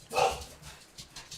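A dog indoors gives a short sharp bark followed by a few fainter yips and whimpers, brief and moderately near.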